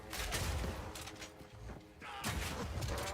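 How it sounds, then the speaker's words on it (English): Grenade launches and blasts in the action game Path of Exile 2, a dense run of booming, mechanical thumps with a brief lull before the barrage picks up again at close range. "I can totally shoot grenades that far"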